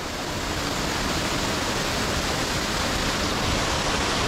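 Sisters Falls at Hollemane, Dhoranagir, gives a dense, steady roar of flowing and falling water, loud and close, unchanging throughout with no voices.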